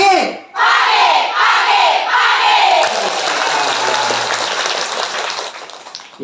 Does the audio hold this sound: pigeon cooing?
no